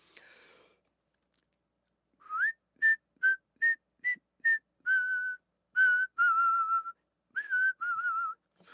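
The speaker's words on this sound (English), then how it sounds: "So I'm compressing, pushing, and shaping to make a whistle." A person whistles a short melodic phrase, starting with several brief separate notes and moving into longer held and gliding tones, clear and close with no talking.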